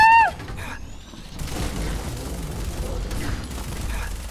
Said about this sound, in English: as I just sit here and hold down the minigun